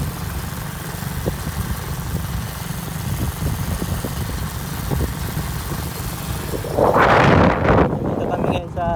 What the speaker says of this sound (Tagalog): mahangin dito, Malinao